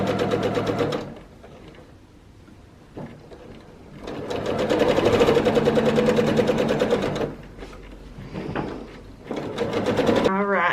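A sewing machine stitches binding onto a quilt in loud bursts of rapid, steady running, pausing into quiet gaps between passes, with a short speaking voice between the runs.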